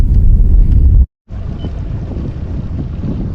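Strong wind on Fort Peck Lake buffets the microphone with a loud, low rumble, drops out for a split second, then resumes gusting.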